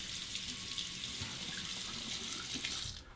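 A butterfly safety razor is rinsed under a running tap, a steady close hiss of flowing water splashing into a sink, continuous and fairly loud until it cuts off at the end.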